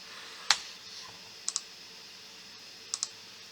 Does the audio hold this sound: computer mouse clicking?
yes